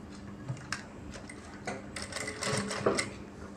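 A sewing machine runs in short stitching bursts along a piping cord, with light mechanical ticking and rattling close by.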